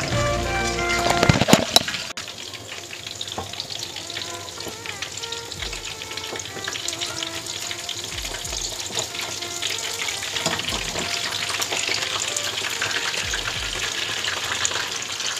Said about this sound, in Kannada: ನಾವು ಕಡಿಮೆ ಫ್ಲೇಮಲ್ಲಿ ಅಂದರೆ ಮೀಡಿಯಮ್ ಫ್ಲೇಮಲ್ಲಿ ಇದನ್ನು ಫ್ರೈ ಮಾಡ್ಕೊಳ್ಬೇಕು